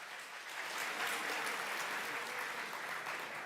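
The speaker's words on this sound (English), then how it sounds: "So let's give him the biggest round of applause." Audience at a plenary session lecture applauds to welcome a professor to the stage, a dense, sustained round of clapping from a large crowd that swells and holds steadily throughout.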